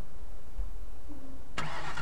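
Car engine in a bridge-building video game cranks and catches with a sudden loud burst near the end, after a steady low background hum; no voices.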